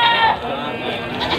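Goats at a village livestock market in Munjungan, Trenggalek, bleat briefly and loudly close by. The bleat mixes into the steady crowd noise of the market, and voices can be heard.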